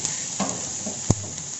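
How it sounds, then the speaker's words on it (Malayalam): Chopped ginger and garlic hit hot oil for a Malayalam-style chicken cutlet filling, giving a steady soft sizzle with a sharp scrape or clink of a utensil partway through, close and fairly quiet, no talking. "ഇതിലേക്ക് നമുക്ക് ആദ്യം ഇഞ്ചിയും വെളുത്തുള്ളി ചെറുതായിട്ട് അരിഞ്ഞ് വെച്ചതിടാം."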